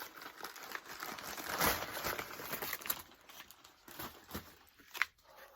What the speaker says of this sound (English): it's going to be so happy when I unshrink wrap it